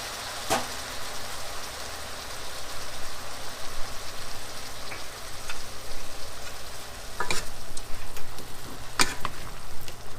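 Vegetables with green peas and soy sauce stir-fried for eight jewelled fried rice, a steady close sizzle with scattered scraping clacks of the spatula against the pan, running alone throughout.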